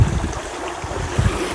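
Irrigation water gushing at speed from a pipe on a farm, a steady close rushing and splashing flow with low churning pulses, heard alone.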